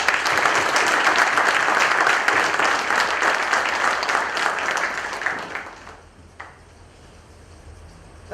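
An audience at an 8th anniversary celebration for OHR claps together in a dense burst of applause that fades away after about six seconds, leaving a quiet room.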